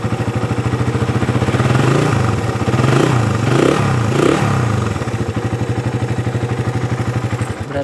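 A Suzuki Satria FU motorcycle with a faulty starter dynamo fires up on the electric starter, then settles into a steady, rapid clattering idle with a brief rev in the middle, heard close.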